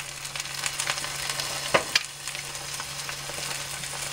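An egg omelette mixture with dried parsley and dried onion fries in a pan with a continuous close sizzle and a couple of sharp crackles partway through, with no talking.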